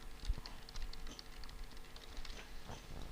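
Typing on a computer keyboard in Microsoft Word, quiet irregular clicks of keys tapped in quick bursts, close and faint, with no voices.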